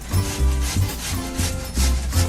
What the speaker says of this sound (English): grating her side of the zucchini on the small grater, on the cheese grater